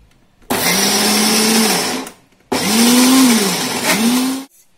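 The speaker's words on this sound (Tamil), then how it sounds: "இப்போ இதையும் சேர்த்து நல்லா அரைச்சிக்கோங்க" A kitchen mixer grinder whirs loudly while grinding soaked chana dal and rice into vada batter, two close bursts of steady motor roar separated by a brief pause.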